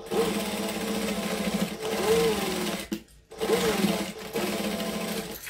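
A sewing machine stitching around the edge of a fabric clutch bag, a loud, fast, steady mechanical whir of the needle running in bursts with a brief pause partway through, and no talking.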